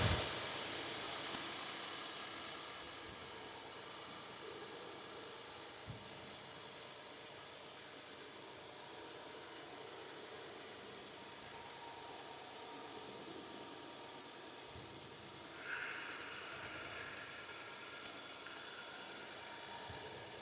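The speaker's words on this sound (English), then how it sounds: "So now we're driving on the shoulder." A car rolls along the road shoulder in Illinois, giving a steady broadband road and engine rumble throughout, with a couple of brief bumps and a slight rise in noise near the end; no one speaks.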